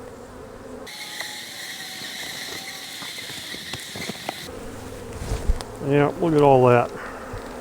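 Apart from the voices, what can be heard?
honey bees buzzing around an opened hive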